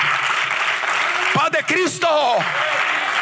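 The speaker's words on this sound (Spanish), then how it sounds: "Dale fuerte el aplauso al Señor" A church congregation at an evangelical service claps loudly and steadily in a dense, continuous wash of applause, while a voice briefly calls out over it midway.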